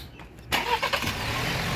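A 2021 Ford Explorer with a 2.3L turbo engine starts after a brief quiet moment, the starter catch quickly giving way to a steady, close, fairly loud idle with no talking.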